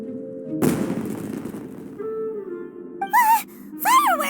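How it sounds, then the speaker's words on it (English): Fireworks explode in the video game Genshin Impact, a sudden booming blast with a crackling tail, followed by sharp whistling, warbling bursts near the end. "It sounded like fireworks."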